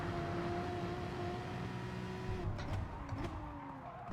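Porsche 911 engine in the racing game Gran Turismo Sport, a steady sustained drone with tonal harmonics that shift and climb near the end, with a few brief transients, continuous throughout.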